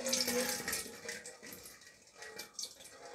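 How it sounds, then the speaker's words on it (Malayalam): Water being poured and splashing in a rush that swells and eases over a few seconds, moderately loud and close, with no talking. "വെള്ളം ഒഴിക്കാൻ പോകട്ടെ"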